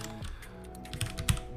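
Computer keyboard typed on during a Linux install: a quick close run of light plastic key clicks, about half a dozen taps in uneven rhythm, with a faint hum behind.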